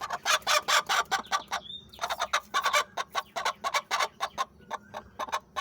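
A hen clucks noisily after laying an egg: rapid, rhythmic bursts of loud clucking close by, going on without a break, with a brief higher squawk among them.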